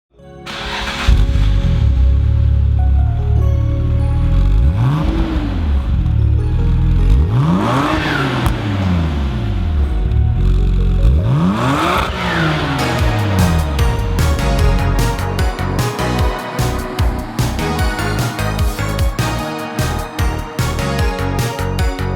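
A Nissan Skyline GT-R V-Spec II NISMO with an RB26 S1 engine pulls away on the road, its engine revving up through several loud, rising sweeps between gear changes, then settling into a busy, sustained drive.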